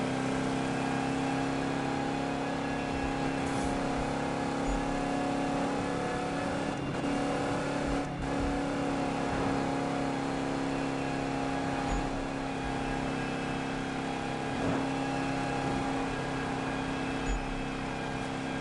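Old V8 roadster engine droning in a PS4 racing game, a loud continuous tone held nearly steady with slight rises and dips throughout, no talk.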